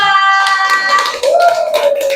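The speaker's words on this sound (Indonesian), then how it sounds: "beri tepuk tangan buat kelompok 2" Schoolchildren in a classroom clap for a presenting group, with quick light hand taps mixed with sustained, chant-like young voices rising over the clapping.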